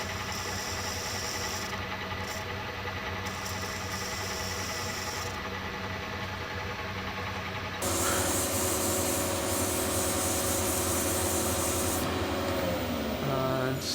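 Continuous rasping sanding noise from work on an uilleann pipe, steady and close, grows louder and harsher partway through before settling into a steady grind.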